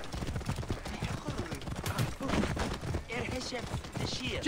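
Horse hooves clip-clop in the Assassin's Creed Origins video game during a horse race, a rapid galloping clatter mixed with game sound effects and character voices talking over it.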